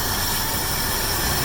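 A 1972 Mercury Comet engine idles slightly high, giving a steady, close, continuous rumble that holds unchanged throughout.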